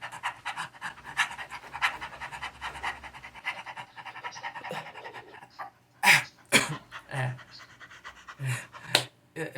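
A person imitates a small dog panting hard after catching a ball, giving rapid rhythmic breathy huffs close to the microphone, followed by a few sharper bursts of noise.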